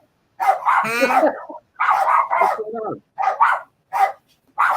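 Several dogs bark in bursts through a household chat, loud and close, with a voice speaking among the barks.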